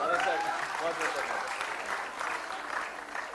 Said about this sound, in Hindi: तालियां भीमराज जी के लिए जोरों से